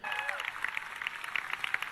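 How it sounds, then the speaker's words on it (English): Audience applause from a standing ovation at a film screening, a dense wash of many hands clapping steadily at a moderate distance throughout, with a few brief tones at the start. "yeah, everyone's clapping for him"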